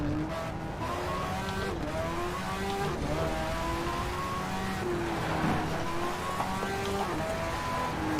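A race car engine drones and shifts through gears on the Nordschleife in the racing game Shift 2, loud and continuous with rising and falling revs and no talk.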